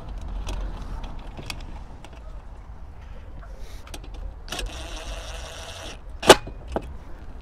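Bolt tightened through aluminium angle and a square plate washer into a channel nut on a Mercedes Sprinter camper van, heard as scattered metallic clicks and taps, then a brief buzzing whirr and a sharp metallic clack near the end.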